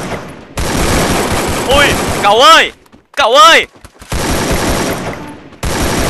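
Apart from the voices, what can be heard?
AK47 gunfire in video game Garena Free Fire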